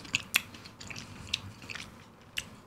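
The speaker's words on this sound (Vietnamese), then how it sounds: "Mình vừa cắn miếng vàng vàng ở đây." Someone bites into Thai chè ice cream with jackfruit jam, giving several soft, close crunches and chews spread out in an irregular rhythm, with no talking over them.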